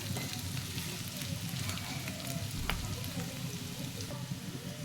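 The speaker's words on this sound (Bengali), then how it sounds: "এইভাবে সবগুলোকে ভালো করে নাড়িয়ে নেব।" Potatoes sizzle and crackle in hot oil in a pan while being stirred for aloo chilli, a continuous close frying hiss broken by occasional scraping clicks of the spoon.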